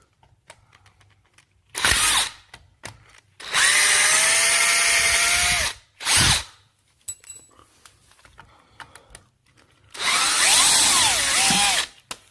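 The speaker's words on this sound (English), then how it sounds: "let's go get the drill and take the screws out." A power drill backs screws out of a cured concrete skateboard mold in three loud bursts of whirring, with quiet pauses and small clatters between them.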